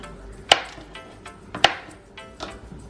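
A knife chops zucchini on a cutting board in a home kitchen, with two sharp, distinct thuds and a few softer cuts spaced over a few seconds, close and fairly quiet with no talk.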